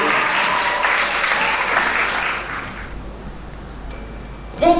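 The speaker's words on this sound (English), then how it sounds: "Please give him a round of applause" An audience at a reading competition final applauds a young reader with sustained, loud clapping. The applause fades out after about three seconds, followed by a few bright bell-like chimes near the end.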